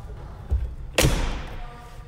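A car door of a 2020 Mercedes-AMG G63 SUV shuts with a solid thud, preceded by a softer click, in an otherwise quiet space.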